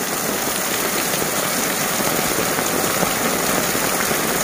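Heavy rain pours down during Hurricane Nora in Acapulco, a dense, steady hiss of drops on surfaces that stays loud and even throughout, with no voices.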